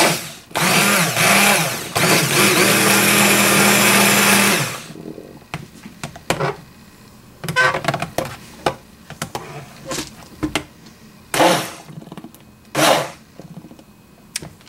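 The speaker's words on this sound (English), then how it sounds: "So I changed something on my stick blender." A stick blender mixing olive oil, coconut oil and lye for liquid hand soap gives one loud, continuous whirring buzz for about four seconds, then stops; scattered clatter and handling knocks follow.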